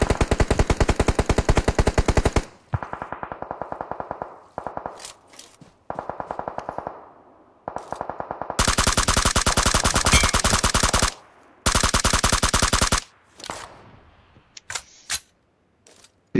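An M416 rifle in the BGMI mobile game fires in rapid full-auto sprays, heard as several loud, sharp bursts of varying length separated by short silences and a few single shots.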